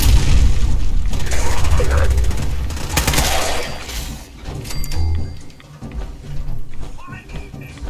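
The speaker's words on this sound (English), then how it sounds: "Fragmentation grenade." A fragmentation grenade goes off in the video game Fallout 4, giving a loud low boom early on that fades into rumbling combat noise, with a voice talking over the action.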